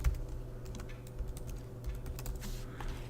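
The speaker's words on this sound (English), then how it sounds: "I'm going to type in those FTP file instructions" FTP login details are typed on a computer keyboard in a quiet room, giving a quick, steady run of close, soft key clicks with no talking.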